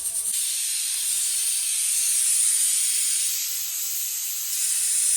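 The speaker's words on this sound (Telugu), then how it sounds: "రొయ్యలు ఎలా ఫ్రై అవుతున్నాయో అన్నారా?" Prawns frying in a pan with green chillies and salt give a steady, loud hiss of steam and sizzle that holds for the whole stretch, with no voices.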